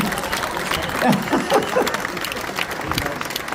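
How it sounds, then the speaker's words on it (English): An audience at a meet-and-greet with North West 200 road racers gives a round of applause, a steady wash of clapping with some cheering and voices mixed in throughout. "I think he deserves a massive round of applause."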